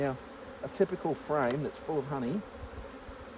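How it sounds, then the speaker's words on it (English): Honey bees buzz around an opened hive during a honey frame inspection, a low continuous drone under a person talking throughout. "They're sending out some angry buzzing."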